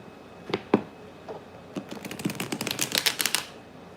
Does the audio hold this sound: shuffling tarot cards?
yes